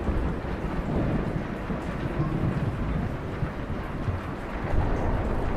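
A thunderstorm in the video game Un Pueblo de Nada gives a continuous low rumble of thunder with heavy rain and gusting wind, steady and dense throughout with no voices.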